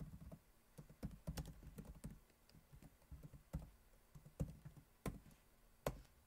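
Fingers type on a home computer keyboard while writing a simple hello world program in an editor, producing irregular quick keystroke clicks with a few louder taps, close and fairly quiet, with no talking.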